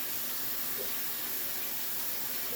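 Tap water runs steadily into a kitchen sink while hands are rinsed during cooking, a constant broadband hiss with no break and no talking.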